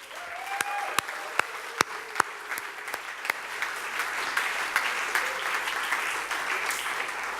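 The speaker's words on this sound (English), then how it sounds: "Huge applause for them." An audience at an evening show applauds steadily with many hands clapping, a few sharp individual claps standing out early before the sound settles into a broad, even roar of applause.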